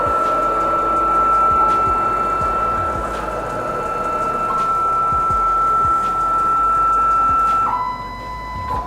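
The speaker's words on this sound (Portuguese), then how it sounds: "nós iremos setar os eixos até a posição home da nossa máquina" A WK3030 CNC router drives its axes to the home position, a steady high-pitched stepper whine that holds, dips briefly, then drops in pitch near the end, with faint clicks and mechanical hum beneath and no talk.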